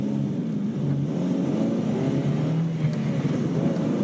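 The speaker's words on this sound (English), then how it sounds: "Engine noise." Engine of a Toyota MR2 Spyder accelerating, heard from inside the car as a steady low drone with a gradually climbing pitch, with no talking.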